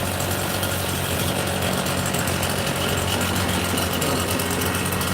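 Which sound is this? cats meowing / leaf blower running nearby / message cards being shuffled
leaf blower running nearby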